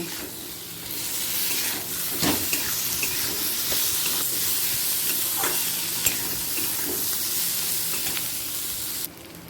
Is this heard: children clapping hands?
no